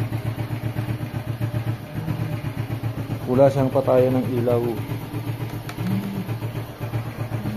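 A motorcycle engine idles nearby with a steady low pulsing chug throughout while someone talks over it.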